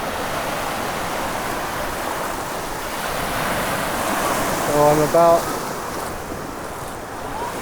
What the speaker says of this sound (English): in the water, waves are crashing.